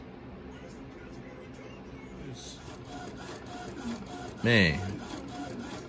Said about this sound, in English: All right, so it's printing